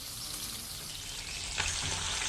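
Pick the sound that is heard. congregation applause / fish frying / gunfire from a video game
fish frying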